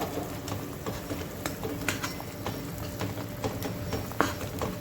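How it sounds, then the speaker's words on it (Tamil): Sweet potato halwa being stirred in hot sugar syrup in a pan, giving a steady low bubbling and soft scraping patter throughout, with a few sharper spoon knocks against the pan. "அவிச்சு அதை வந்து இதில் போட்டு இந்த பாகில் வெள்ளத்தில் போட்டு சர்க்கரையில் போட்டு நல்லா கை விடாமல் கிண்டணும்"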